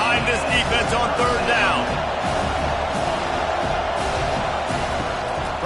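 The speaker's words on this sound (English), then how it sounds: "Decibels rising as the crowd gets behind this defense on third down" A college football stadium crowd roars in a steady, swelling wall of noise on third down in the Louisiana at Georgia Tech game, while a play-by-play announcer talks over it.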